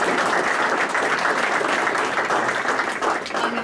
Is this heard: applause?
yes